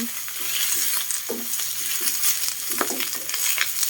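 Chinese kale and crispy pork stir-fried in a pan, a steady sizzle with repeated scraping stirs of the spatula, close and continuous with no talking.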